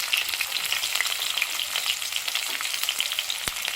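Onion and green chillies fry in hot tempering oil with mustard seeds, giving a steady bright crackling sizzle with scattered pops, close up and unbroken, with no one speaking.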